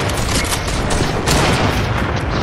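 Dense, continuous gunfire and booming blasts in a Fortnite battle, loud and steady throughout with no clear gaps between shots.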